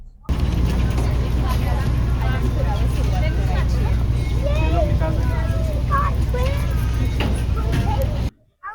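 A ferry boat docks at the Mackinac Island harbor, its engine droning loud and steady, with a crowd murmuring and voices speaking over it until it cuts off near the end.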